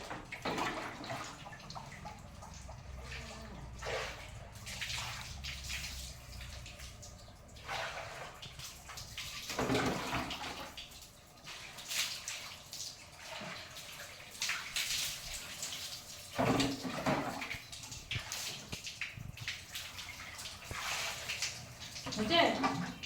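Water splashes and pours while an elderly woman is bathed at home, a soft continuous trickle with intermittent splashes, heard under nearby conversation.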